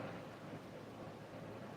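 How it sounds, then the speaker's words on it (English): Rain falls steadily outdoors as an even, continuous hiss with no breaks and no one speaking. "It's raining. Don't go outside the rain."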